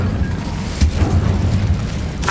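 Incendio fire spell cast in the video game Hogwarts Legacy, a loud, close, rumbling burst of flame with a low booming roar lasting the whole moment and a brief sharp crackle near the end.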